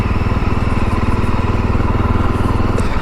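A Jawa Bobber 42 motorcycle engine in second gear, jerking with the throttle released: a loud, close, low pulsing rumble that throbs unevenly throughout.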